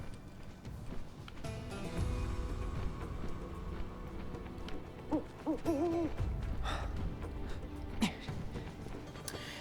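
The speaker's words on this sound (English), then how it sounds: "Also, I never found where this freaking owl was going." Owl hooting in the video game Final Fantasy VII Rebirth, a few clear wavering hoots in the middle of the clip over steady ambient game music and background sounds, moderately loud and fairly close.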